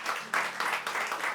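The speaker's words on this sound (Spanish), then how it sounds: "Dale un fuerte aplauso al Espíritu Santo." Church congregation at an Iglesia Encuentro con Jesús service clapping together, a short burst of fairly steady applause with a brief surge partway through, moderately loud and with no talk over it.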